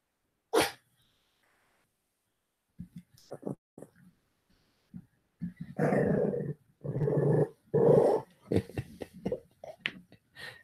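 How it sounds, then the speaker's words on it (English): A small fluffy dog growls and grumbles in play, with rough bursts of snarling and snuffling that come and go close by, and a sharp sneeze-like snort near the start. "Oh, what an idiot dog."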